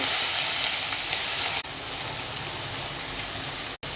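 Three finely chopped onions sizzle loudly as they hit hot oil in a pan while cooking paneer masala, a steady bright frying hiss that cuts out briefly near the end.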